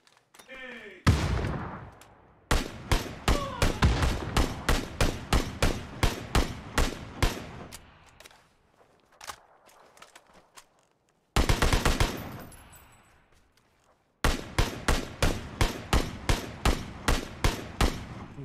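Gunfire in the video game PUBG: rapid automatic bursts of sharp shots, loud and close, in several long strings separated by brief pauses, with a few quieter stretches between volleys.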